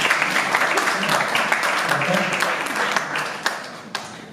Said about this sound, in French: Vous pouvez applaudir au ciel.